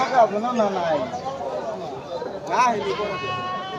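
Goats bleat at a busy weekly livestock market in Dhamrai, with a couple of nearby wavering cries rising over constant crowd chatter and close talking.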